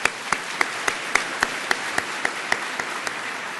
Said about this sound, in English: so we could give you a quick round of applause